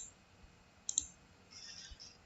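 A computer mouse gives two sharp, quick clicks close together while a portable speaker is being modelled in Fusion 360, then a few softer clicks. The sounds are quiet and close against near silence.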